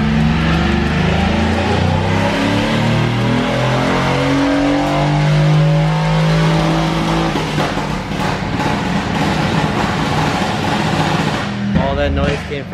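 A Mercedes-AMG GT S with a Gintani tune roars loudly and close during a full-throttle pull, its engine note climbing steadily through the revs before easing off near the end, with no voices.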